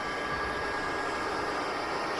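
Jet engine of a Tupolev Tu-154 spooling up in the X-Plane 12 flight simulator, a steady loud broadband roar with a faint whine, continuous and without talk.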